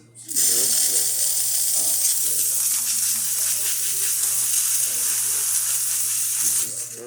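Espresso machine steam wand being tested after a full service, giving a loud continuous hissing rush of steam that runs steadily for several seconds, close up.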